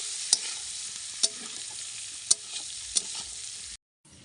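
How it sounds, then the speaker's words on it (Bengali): Pointed gourd (potol) frying in hot oil gives a steady, faint sizzle, broken by four sharp clinks of a utensil against the pan, with no talking. "পটলটা তেলের মধ্যে দিয়ে দিয়েছি, ভালো করে পটলটা ভেজে নেব।"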